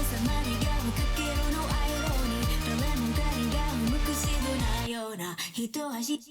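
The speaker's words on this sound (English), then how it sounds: "So this effect that I'm playing with here is it's kind of like a chorus." A sung vocal line treated with a chorus-like effect sounds thick and doubled over a full backing mix, which drops away near the end and leaves the voice more exposed.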